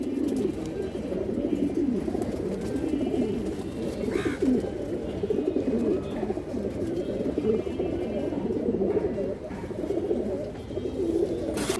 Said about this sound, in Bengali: বড় সাইজের একটা কবুতর